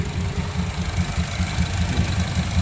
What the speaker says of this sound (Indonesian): kondisi mesin halus, aman, tidak bekas banjir.